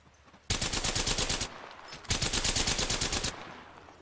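Two long bursts of rapid automatic gunfire in the video game Apex Legends, loud and close, separated by a brief pause, with no talking.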